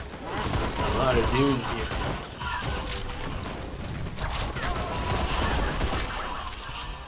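Gunfire and explosive blasts from the sci-fi shooter game Raiders of the Broken Planet, a dense, continuous barrage of shots and crashes with someone talking over the chaotic combat throughout.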